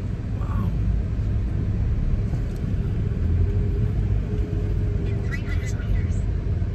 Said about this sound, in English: Yeah, the traffic here is horrendous,